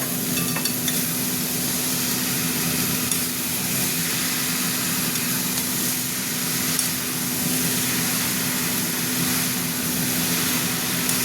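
Banana flower cooked with spices in a pan, stirred over the heat, giving a steady low sizzle and frying hiss with faint scraping, continuous and close for around eleven seconds with a constant hum underneath.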